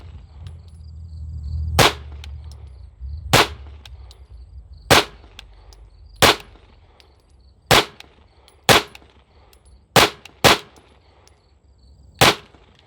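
Pistol shots from a SIG X5 or Walther Q5 Match, nine sharp loud reports spaced irregularly, including a quick double, with quiet gaps between and a faint background hum early on.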